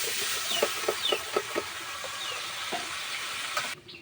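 Whole cumin, onion and green chili frying in a pan for a bitter gourd and potato dish, a continuous soft sizzle with a few brief knocks and scrapes of stirring early on, close and moderately quiet.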